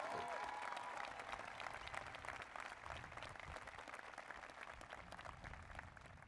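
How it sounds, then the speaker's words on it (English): A university audience at a presidential inauguration at Radford applauds warmly, a dense, even wash of many hands clapping that continues steadily for several seconds, recorded at a distance and fairly quiet. "Let's give her a hearty round of applause."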